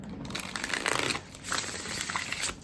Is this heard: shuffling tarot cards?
yes